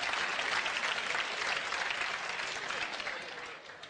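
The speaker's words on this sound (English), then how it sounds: "Give yourself a round of applause." Audience at a VIP lunch breaks into steady, dense applause that carries across the whole moment and eases off slightly at the end, with no talking over it.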